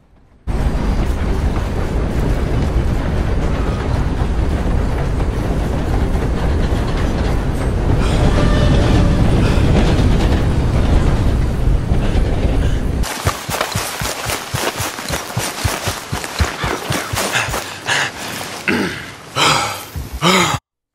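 A steam train rolls past in Red Dead Redemption 2, a loud, close rumble that builds and then breaks into a fast, rhythmic clickety-clack of wheels over rail joints.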